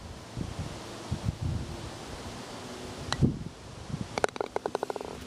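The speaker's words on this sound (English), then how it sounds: "It's windy too." Gusty wind buffets a microphone outdoors on a golf course, a steady rushing roar that swells and eases, with a few brief clicks and rattles toward the end.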